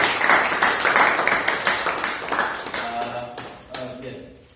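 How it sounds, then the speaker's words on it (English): Clapping from a group at a club meeting fills the scene, dense and fairly loud at first and thinning out, with brief tonal pings near the end. "round of applause for"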